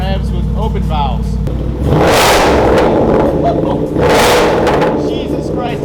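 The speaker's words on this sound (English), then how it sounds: "So this is revs with open valves." Whipple-supercharged Mustang GT fitted with a Valvetronic Designs active exhaust, valves open, revved twice in a row: loud, raspy bursts climbing above a rumbling idle, close by, with brief talk at the start.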